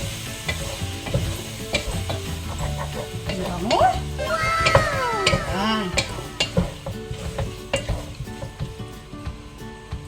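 Pinapaitan sautéing in a pot as it is stirred, a loud continuous sizzle with repeated clanks and scrapes of a utensil, plus a brief squealing, meow-like tone in the middle, nearby and without speech.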